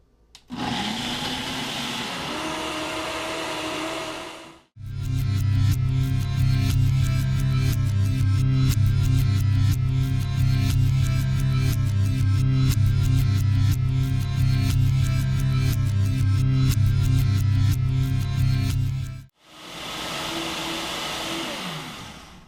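A Nutri Ninja Auto IQ blender and a Vitamix S30 blender run one after another, a loud, steady motor roar held for about fifteen seconds, with brief whirring blends before and after.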